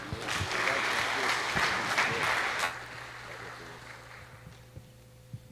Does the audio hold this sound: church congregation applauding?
yes